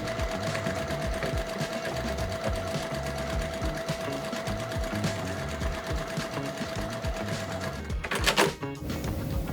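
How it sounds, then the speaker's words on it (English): A sewing machine steadily stitches quilt pieces together, its even mechanical whir running close and continuous before a brief louder rattle near the end. "I'll get these sewn together for you."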